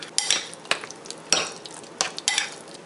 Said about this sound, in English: Now I'm going to add the sour cream and mix this well.